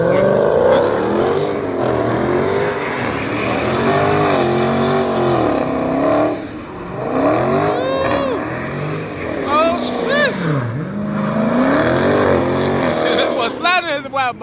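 A widebody Mopar car slides while its engine revs hard, rising and falling in loud sweeps with tire squeals near the end, as people talk over it throughout.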